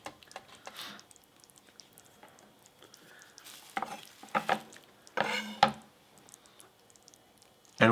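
Cooked taco meat is stirred in a pan, giving scattered scraping and clinking bursts over a faint sizzle, fairly quiet and close, with no talking.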